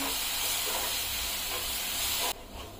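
Rava and coconut sautéed with condensed milk in a pan, giving a steady, close sizzling hiss that runs unbroken and then drops off suddenly near the end.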